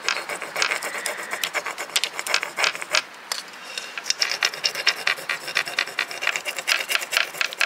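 A decor transfer is scraped onto a terracotta pot coated in mineral paint, making repeated short, close rasping strokes in an uneven rhythm, heard alone.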